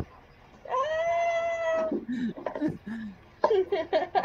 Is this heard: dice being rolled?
no